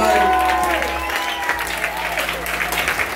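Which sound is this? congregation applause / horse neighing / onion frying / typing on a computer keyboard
congregation applause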